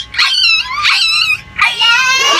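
A human voice imitating a puppy, three high whimpering, whining yelps close to the microphone, each wavering and drawn out, separated by short pauses.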